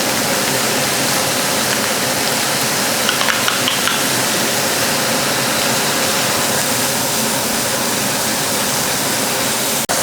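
Korma paste for a prawn korma frying in a hot pan, a steady loud sizzle with faint stirring scrapes throughout, no voices.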